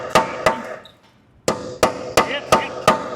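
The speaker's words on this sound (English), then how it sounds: "You gotta hammer it on." Sharp metal hammer strikes drive a socket onto rusted frame nuts on a Jeep Wrangler TJ, two quick hits, a short pause, then five evenly spaced blows, close and loud.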